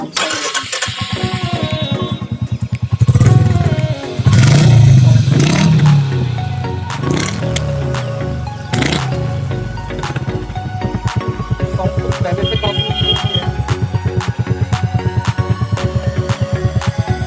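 A Royal Enfield Classic 350 motorcycle starts up close by, revs in a few loud bursts, then settles into a steady, rhythmic thumping idle.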